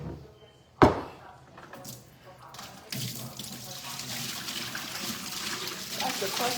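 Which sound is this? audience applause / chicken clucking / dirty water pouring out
dirty water pouring out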